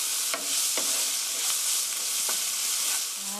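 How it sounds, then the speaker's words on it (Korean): Onions and garlic stir-frying in a hot pan for tomato scrambled eggs, a steady bright sizzle broken by several short scraping stirs of a utensil, close and fairly loud with no talking. "이렇게 해서 3미닛 3분간 볶아주세요"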